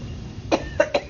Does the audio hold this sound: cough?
yes